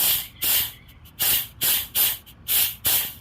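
Short bursts of compressed air hiss into a stuck brake caliper to push its piston out, five separate blasts in an even rhythm with brief pauses between, loud and close with no talking.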